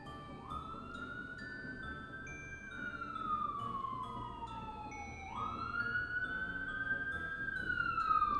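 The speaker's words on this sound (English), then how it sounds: "Y'all hear all these sirens?" Several fire truck and emergency sirens wail together, one sweeping slowly down then back up in pitch, others holding steadier tones, loud and continuous against a busy street background.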